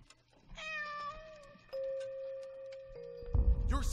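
A cat meows in the horror video game Layers of Fear: Inheritance, giving a few drawn-out tonal cries over quiet ambience, with a louder rustling noise at the end.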